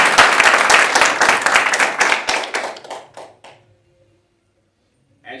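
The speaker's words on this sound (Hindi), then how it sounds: "तो चलिए जेंट्स ग्रुप के लिए तालियां बजाएं" Dense applause from an audience at a yoga family gathering honouring a gents' club group, many hands clapping loudly before thinning out and fading to near silence.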